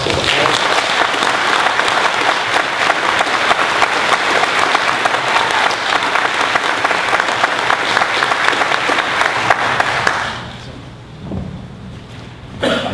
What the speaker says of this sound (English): So if we could have a round of applause